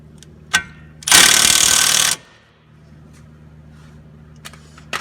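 An impact-type power tool tightens the lower brake caliper bolts on a 2008–2012 Chevy Malibu in one loud, close buzzing burst lasting about a second, with a few light metallic clicks before and after.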